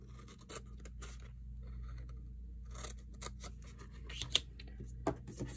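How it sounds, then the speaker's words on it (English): Scissors cut through paper card up to a score line on a handmade treat bag. The crisp, close snips and scraping slices come in quick succession, with no voices. "What I want to do is cut up to the 2-inch score line"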